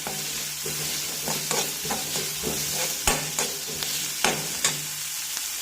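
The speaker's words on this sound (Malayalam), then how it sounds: "പച്ചമുളക് ഏകദേശം വഴന്നു വന്നിട്ടുണ്ട് അതിലേക്ക് കറിവേപ്പില ഇട്ടുകൊടുക്കാം" Green chilies and curry leaves crackle and sizzle in hot oil in a pan while cooking mushroom thoran, a steady fry broken by sharp spitting pops and light stirring taps.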